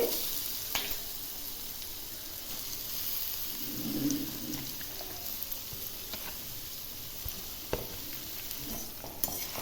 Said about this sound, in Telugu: ఇలా వేసుకొని ఒక ఐదు నిమిషాలు బాగా కుక్ చేసుకోవాలండి నూనె పైకి తేలే వరకు